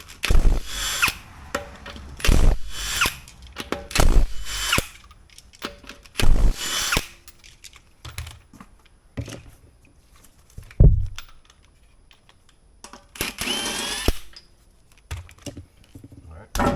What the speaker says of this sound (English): I'm going to finish taking off the rest of the lug nuts.